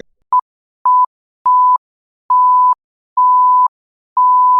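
Phone beeping in a steady series of six clean electronic tones, each a single pitch with short gaps between, the later beeps held longer; loud and close with nothing else audible.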